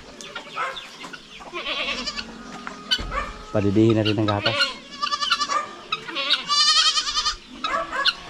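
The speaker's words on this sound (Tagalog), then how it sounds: "Malaking kambing to mga kaprobinsya." Large goats bleat several times, loud and close, with someone talking in Tagalog between and over the calls in a farmyard setting.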